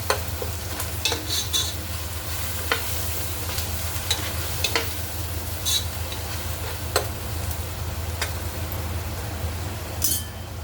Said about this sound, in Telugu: అల్లం వెల్లుల్లిపాయ పేస్ట్ పచ్చివాసన పోయే వరకు వేగించుకోవాలి.